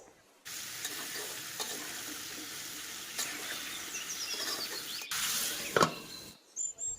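Jujube pickle with chili and turmeric powder and vinegar cooks in a pan, a soft continuous sizzle with occasional stirring scrapes, a louder burst near the end before it cuts off.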